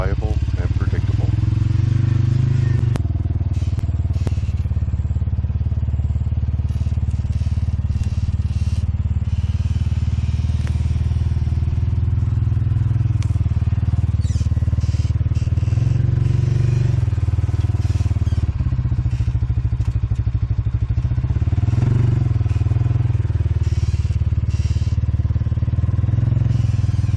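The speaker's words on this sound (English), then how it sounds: "Out on the trail, the X550 has plenty of torque for climbing and hauling." An Axis X550 UTV drives along a trail, its engine droning steadily and loudly up close with clattering and scraping from the rough ground, while a voice talks over it at times.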